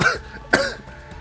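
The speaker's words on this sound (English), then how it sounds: "I can't have a coughing fit now." A couple of short, dry coughs in a coughing fit in the video game Rain Code, with a throat-clearing quality, close and fairly quiet.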